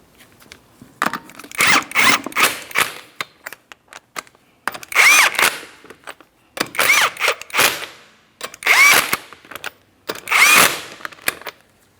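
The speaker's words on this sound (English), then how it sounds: "Once you have them all started on, snug them up." Lug nuts are snugged up on a 2004–2008 Pontiac Grand Prix wheel: several short bursts of tool whirring and rattling, close and fairly loud, separated by brief pauses.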